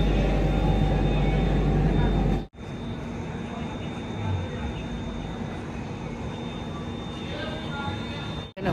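A train stands idling at Palanpur railway station in Gujarat, with a steady low rumble and a thin constant whine, a couple of brief cutouts, and faint voices in the background.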